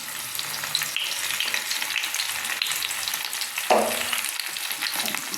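Ground masala paste for a brinjal curry sizzles steadily in a hot pan as it is added and stirred, with a sharper burst of frying partway through; no voices.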